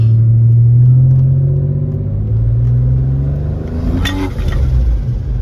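A turbocharged Mitsubishi Pajero engine drones steadily as the vehicle drives, a loud, close, low hum that rises slightly in pitch, with a brief rattling burst near the end.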